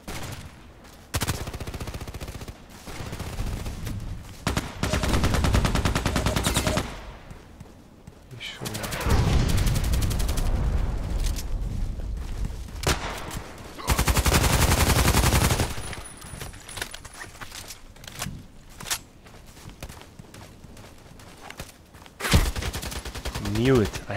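Gunfire in a shooter video game, bursts of loud rapid automatic shots alternating with quieter stretches, voices talking in between and over some of the shooting.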